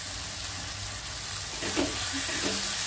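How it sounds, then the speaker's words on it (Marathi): Dried shrimp frying in oil with onion and tomato gives a steady, moderate sizzle throughout, with a few faint stirring scrapes near the end and no speech. "कांदा आणि टोमॅटो सोबत चांगली परतून घ्यायची"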